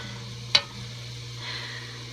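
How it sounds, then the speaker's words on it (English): Onion and garlic sizzle in a pan for an eggplant lasagna sauce, giving a steady, soft frying hiss while being stirred, with one sharp utensil knock against the pan early on and no voices. "So I'm going to keep stirring this for a few seconds"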